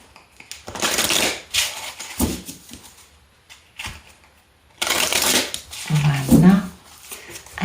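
Tarot cards shuffled by hand for a card reading, repeated close, crisp riffling bursts separated by pauses, with a brief low voice near the end.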